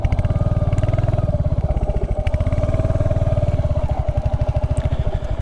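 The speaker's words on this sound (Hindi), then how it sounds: "अब निकालते हैं इधर से, बाइक को निकल तो जाती है वो" A Royal Enfield Hunter 350 motorcycle bumps slowly over a rough off-road patch, its single-cylinder engine thumping in a steady, close, loud rhythm with rattling clatter from the chassis.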